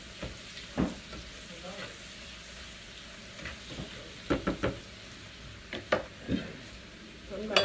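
Sauteed vegetables frying in a pan on the stovetop, a steady soft sizzle broken by scattered louder clicks and scrapes as a utensil stirs and knocks against the pan.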